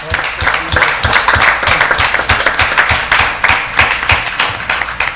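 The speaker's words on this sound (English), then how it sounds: "Please, with your applause, give this gentleman a hand" A school board meeting audience claps loudly and close by in a brisk, fairly regular rhythm, sustained throughout without talk.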